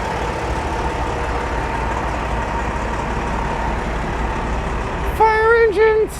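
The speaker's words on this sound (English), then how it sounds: "fire engines!" Fire engines on a city street in Seattle's CHAZ zone: a steady, heavy engine rumble for several seconds, then a loud siren wail bursts in near the end.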